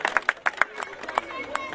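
A rally crowd at a Congress candidate's village campaign meeting welcomes him with scattered, rhythmic clapping, sharp hand claps standing out over a busy murmur of voices.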